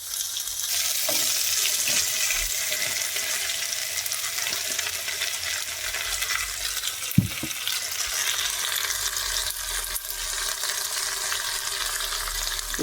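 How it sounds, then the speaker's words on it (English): Oil spits and crackles steadily as curry fries in a pan, a dense hiss with scattered sharp pops and one louder snap, running continuously without any talking. "The oil is spitting everywhere."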